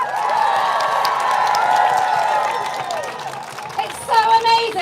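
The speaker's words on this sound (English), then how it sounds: "I want you to give yourselves a massive cheer" A large rally crowd cheers and applauds in a loud, sustained roar of voices and clapping that fades after a few seconds, with a voice speaking over the tail end.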